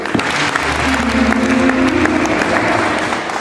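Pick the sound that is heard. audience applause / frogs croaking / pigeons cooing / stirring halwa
audience applause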